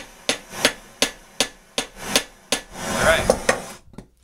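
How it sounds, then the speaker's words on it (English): Sharp metallic taps strike a hot nut on a Hayward Super Pump motor bolt, about eight evenly spaced close blows, with a brief scraping rub near the end. "while it's hot, just like in the old days with the blacksmith, we're going to heat this up and tap it down"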